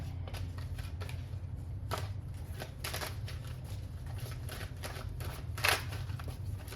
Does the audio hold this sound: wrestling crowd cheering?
no